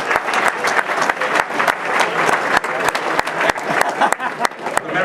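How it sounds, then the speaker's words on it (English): Steady audience applause fills a banquet room at a big game dinner auction, dense clapping close and sustained throughout, with a few sharper claps standing out and faint voices mixed underneath. "Let's give him another nice round of applause."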